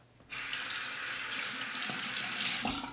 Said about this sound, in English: Temper the razor under the hot water.